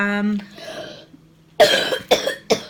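A person coughs three times in quick succession, close and loud, just after a brief spoken remark.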